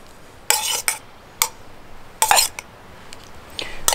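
Metal utensils scraping and clinking against a bowl while shrimp in butter sauce are served at a camp cooking setup, several sharp separate clatters spaced out over a quiet background, close by.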